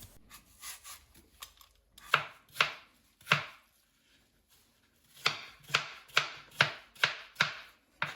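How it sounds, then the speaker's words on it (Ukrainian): A knife cuts peeled apples into cubes on a board: scattered soft taps, then several firm chops, a pause, and a quick regular run of about seven chops. "Беремо яблука, очищуємо і нарізаємо кубиком."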